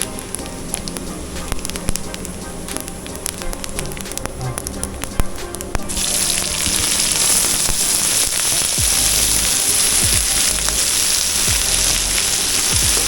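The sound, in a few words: cumin seeds frying in sunflower oil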